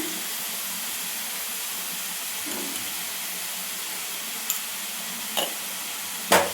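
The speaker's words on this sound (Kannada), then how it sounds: "ಉಪ್ಪನ್ನ ಆ್ಯಡ್ ಮಾಡ್ಕೊಂಡು ಚೆನ್ನಾಗಿ ಫ್ರೈ ಮಾಡ್ಕೊಳ್ತೀನಿ." Beetroot and onions frying with salt in a pan give a steady, close sizzling hiss, broken by a few sharp scrapes or knocks of stirring, with no one talking.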